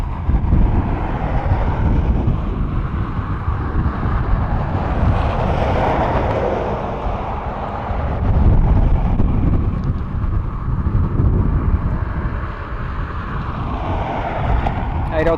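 Ryanair airliner arriving from Nice at Dublin Airport, a loud rumbling jet roar that swells and dips with gusty wind buffeting the microphone, voices faintly present.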